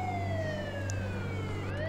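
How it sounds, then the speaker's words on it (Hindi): A police car siren wails steadily in a GTA mobile game as the vehicle arrives, a continuous falling tone over a low engine hum, loud and alone. "ये आ गई गाइस हमारी पुलिस की गाड़ी"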